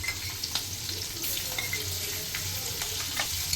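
Mustard seeds, cumin, turmeric and chopped green chilli crackling in hot fat for pav bhaji, a quiet close sizzle with small pops and light stirring.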